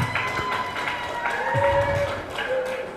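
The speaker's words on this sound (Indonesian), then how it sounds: "Tepuk tangan semuanya." A crowd at a university public lecture applauds with scattered, uneven clapping, while voices and cheering mix in underneath.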